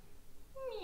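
A house cat gives a single short, faint meow at the very end, rising out of quiet room tone.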